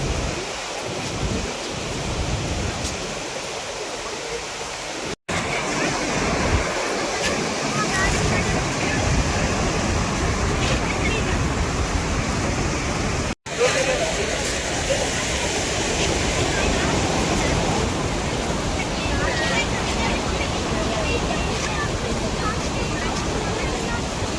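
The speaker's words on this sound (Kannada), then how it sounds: "ಇದು ಬಂದ್ಬಿಟ್ಟು ನಮ್ಮ ಹಾರಂಗಿ ಜಲಾಶಯ ಅಂದ್ಬಿಟ್ಟು ಕೊಡಗಿನ ಕಾವೇರಿ ನದಿ" Water rushing at the Harangi reservoir dam on the Kaveri river in Kodagu during the monsoon gives a steady, loud roar mixed with wind buffeting, broken by two very short dropouts.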